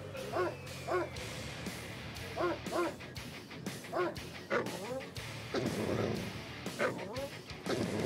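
Attack dogs in the Command & Conquer Remastered strategy game bark and yelp repeatedly in short clustered bursts, mixed with battle noise and unit voice responses, with someone talking over them.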